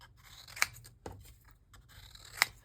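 Scissors cut out paper acorns in a quiet room, two crisp sharp snips about two seconds apart with a softer thud between them, close and clear.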